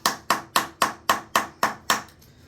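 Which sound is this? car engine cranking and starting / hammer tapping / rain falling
hammer tapping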